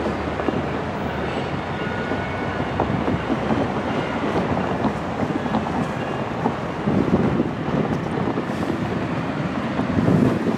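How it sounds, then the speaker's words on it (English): MARC commuter train P873 passing at Brunswick, Maryland, a steady broadband rumble of rolling rail cars with wind buffeting the microphone, continuous throughout without voices. "And there goes the Marc train."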